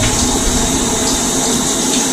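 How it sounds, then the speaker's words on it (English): Dreadlocks being squeezed to push water out give a steady, close wet rush of dripping and trickling water that keeps on through the whole stretch with no talk. "Squeezing is very important, I find, for getting water through your dreads, as well as getting water out"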